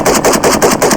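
Rapid rifle fire with 7.62x39 rounds, a fast run of loud, close, evenly spaced shots with no voices.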